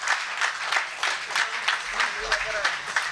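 An audience at a poetry gathering claps for poet Sana Ullah Sana, a pulsing, fairly loud round of applause with a voice murmuring underneath.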